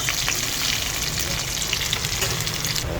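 Garlic frying in cooking oil for a shrimp bagoong dish, a steady dense sizzle that stays loud and even from start to finish with no talking.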